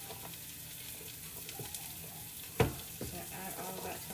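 Chopped onions, celery and carrots cook in butter in a soup pot, a quiet continuous sizzle with a sharp clatter midway and a few soft knocks, heard close with no talking.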